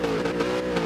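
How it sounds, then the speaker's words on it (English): Race car engine in Gran Turismo 7 during a standing-start daily race, revving loudly and continuously with a steady high-pitched drone and slight surges, close up and alone. "Who's revving like that?"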